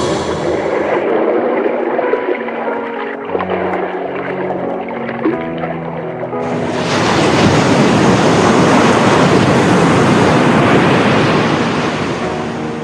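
Sea waves surging and washing on a shore, a steady broad roar that swells louder and denser partway through, with no voices.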